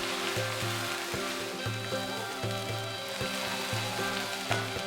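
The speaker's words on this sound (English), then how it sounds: "Then saute the crushed ginger, garlic, green chillies until the raw smell goes." Crushed ginger, garlic and green chillies sizzle in hot oil in a pan, while a utensil stirs them in a quick, regular scraping rhythm, close and continuous.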